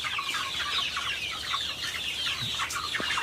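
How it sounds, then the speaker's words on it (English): Many chicks cluck and peep together inside a greenhouse brooder at night, a dense, steady chorus of chirping close by with no talking. "there's a lot of birds in there"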